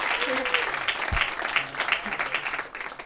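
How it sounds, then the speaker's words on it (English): Audience members at a senior recital clap in sustained, lively applause, with a brief vocal whoop or cheer near the start. "Yeah, you can clap for them."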